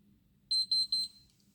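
A dishwasher in a holiday rental villa beeps three times in quick succession to warn that its door is not closed; the high, clear tones stand alone over a faint low hum.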